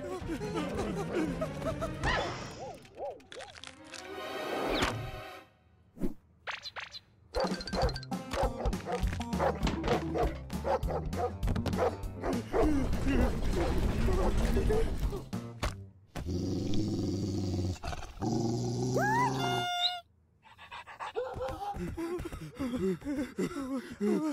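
A cartoon dog barks and growls in short, loud yips and snarls, mixed with thwacks, gasps and excited character voices in a chaotic animated chase.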